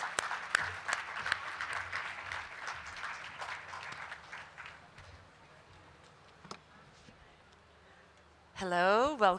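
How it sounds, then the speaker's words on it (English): Applause from a literature festival audience in Jaipur welcoming two guests on stage, a dense steady clapping that fades over several seconds before a single voice begins speaking. "Let's welcome the both of them with a huge round of applause"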